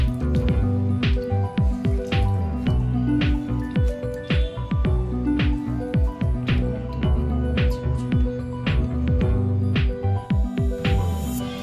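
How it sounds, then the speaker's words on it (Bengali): Chhena wrapped in a cloth handkerchief is squeezed by hand to wring out water, giving close, repeated wet squishes and drips in an irregular rhythm throughout, with no talk. "আমি রুমাল থেকে এরকম চিপে চিপে এক্সট্রা জলটা বার করে নেব"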